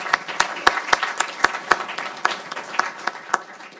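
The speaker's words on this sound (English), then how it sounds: "I think we owe a round of applause to thank these folks for doing this." Sparse clapping from a small audience at a panel event on regulating retirement investment advice, thanking the panelists; distinct individual claps in an uneven rhythm, moderately close.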